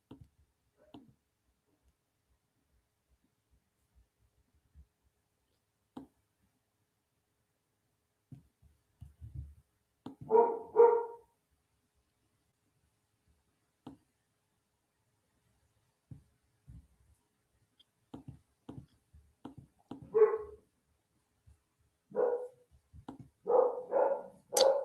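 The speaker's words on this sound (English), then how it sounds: "I'm sure you can hear these dogs." Dogs barking in bursts, a few short isolated yelps early on and then clustered rounds of barking near the end, fairly distant and faint against an otherwise quiet room.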